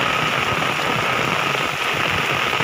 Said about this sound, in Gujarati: અત્યારે વરસાદ પાછો સ્પીડમાં વાયરા ભેગો આવી રહ્યો છે